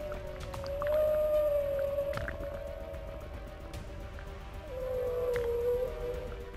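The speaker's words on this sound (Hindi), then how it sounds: "जब दोनों एक साथ तैरते हैं तब ये खास तरह का साउंड निकालते हैं जिसे व्हेल सॉन्ग भी कहा जाता है" An adult whale and its calf call while swimming together in the sea: long, sustained tonal moans that rise and hold, one stretch early and another near the end, over a murky underwater rumble, with no voices.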